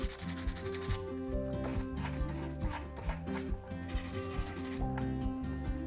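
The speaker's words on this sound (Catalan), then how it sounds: "Ara agafem el paper de vidre, començarem pel més gruixut, és a dir, pel número més baix." Coarse sandpaper rubbed back and forth over the top of a lost-wax cast ring, a quick run of close, rasping scrapes in an uneven rhythm, heard alone without speech.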